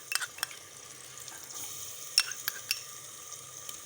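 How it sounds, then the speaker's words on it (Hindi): A spice masala of red chili powder, turmeric and ginger garlic paste fries softly in a pan, with a faint sizzle broken by a few sharp utensil clicks and stirring scrapes. "अब मैं इसे अच्छे तरीके से पहले थोड़ा सा फ्राई करूँगी मसाले को"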